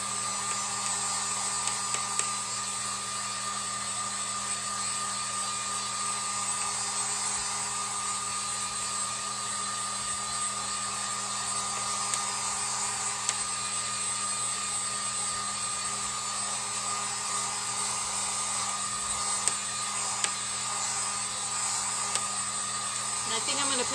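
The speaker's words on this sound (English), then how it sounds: "So I'm just going to dry it with my heat gun." A heat gun blows steadily while drying paint on a cutting board, producing a constant, even whooshing whine that holds without a break for the whole stretch.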